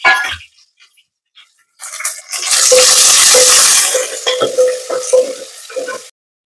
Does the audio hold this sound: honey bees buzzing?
no